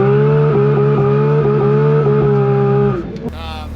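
A brand new Porsche GT3 RS holds a loud, steady, strongly pitched engine note with slight rises and dips as it drifts sideways, then the tone cuts off abruptly near the end and a brief rustle follows.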